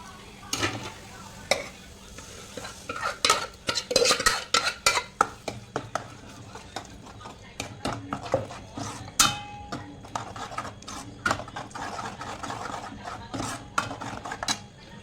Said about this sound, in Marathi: डाळ करते